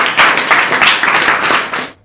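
Hands clap in a quick, steady rhythm for about two seconds in a Rajasthani-Haryanvi comedy skit, fairly loud and close, then stop abruptly into silence.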